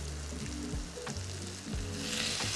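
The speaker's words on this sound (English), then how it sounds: "Nice little sizzle, that's good." Squash pappardelle sizzling in a pan of brown butter, a steady crackling fry close up with a few clinks of stirring, no talking.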